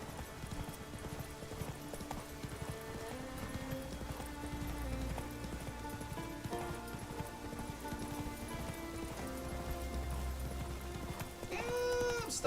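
A horse's hooves clip-clop at a steady gallop in the video game The Witcher 3, running continuously over background game music, with a louder burst near the end.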